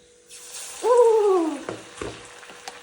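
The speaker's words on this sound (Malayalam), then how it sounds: "എണ്ണ ചൂടായിട്ടുണ്ട് ഇനി ഓരോന്നും ബോളാക്കി ചെറുതായിട്ടൊന്ന് ചപ്പിച്ചിട്ട് കൊടുക്കാം" Onion fritter dough drops into hot sunflower oil, setting off a brief burst of sizzling and bubbling that gradually settles into faint crackling, close by with no voices.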